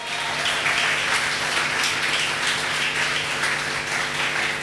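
A church congregation breaks into sustained applause, a dense, steady wash of many hands clapping at once that carries evenly from start to finish with no voices over it.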